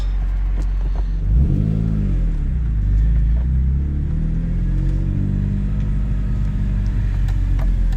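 An essentially stock BMW E46 M3 with a lighter aftermarket rear exhaust section pulls away, its engine note rumbling low and sweeping upward as it accelerates, then settling into a steady, close drone through the gears.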